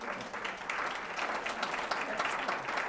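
Audience at a community grant-sharing event in St. Louis Park applauding, a dense, steady patter of many hands clapping throughout, fairly close and loud.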